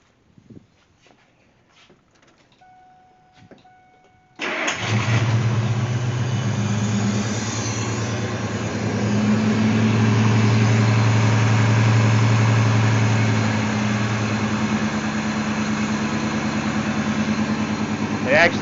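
After a few seconds of near quiet with light clicks, an old budget expedition vehicle's engine cranks and catches, then idles steadily with a loud, low rumble while running on only six spark plugs.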